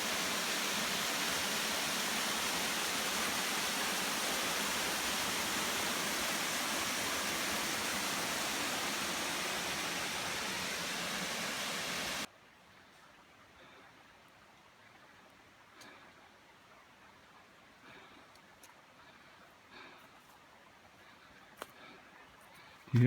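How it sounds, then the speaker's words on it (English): A stream flows below a waterfall rock face, giving a broad, steady rush of water that fills the first half. It then drops abruptly to a much fainter background hiss. "You hear that stream down there?"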